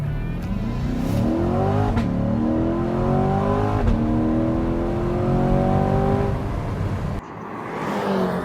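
A hardtop convertible car accelerates hard, its engine note climbing through several gears with clear upshift breaks, loud and close throughout before a brief dip near the end.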